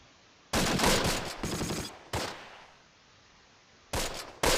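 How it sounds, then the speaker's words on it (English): Long, loud bursts of machine gun fire in the Close Combat wargame: a sustained rattling burst, a shorter one, then another after a quiet gap, all close and harsh. "That's another of their machine guns"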